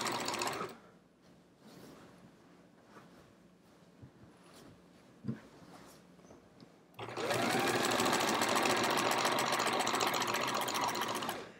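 Sewing machine stitching binding onto a hedgehog wall-hanging quilt, starting with a loud, steady continuous run after a stretch of quieter handling noises and soft clicks.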